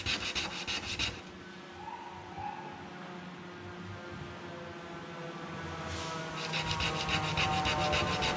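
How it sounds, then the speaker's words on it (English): A ceramic tool is rubbed back and forth on sandpaper to grind a flat, chisel-like tip. Scratchy strokes come at the start and end, with a quieter, softer stretch in between. "Just holding it in the same position, back and forth, moving to new parts of the sandpaper as I do it."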